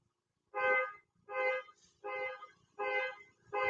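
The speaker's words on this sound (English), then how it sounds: "My truck alarm keeps going off out there in the driveway." A truck alarm sounding out in a driveway gives a series of loud honking tones in a regular rhythm, four full blasts and the start of a fifth, each lasting about half a second with short gaps between.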